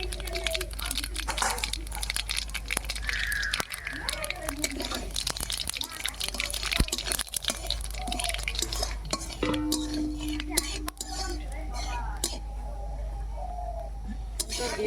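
A pan of peanut chutney tempered with mustard seeds and cumin is stirred, sending soft scraping and clinking strokes through a steady background hiss, close and moderately quiet, with birds chirping faintly in the distance and no talk.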